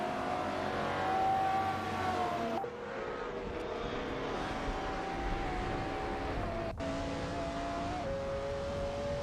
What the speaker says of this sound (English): watching these racing cars driven by artificial intelligence tear up the virtual